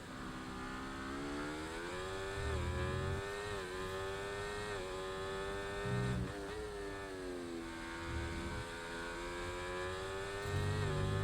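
On-board race car engine from a racing game event at Qatar, a loud continuous whine rising and falling through repeated gear changes and revs, with no one talking over it.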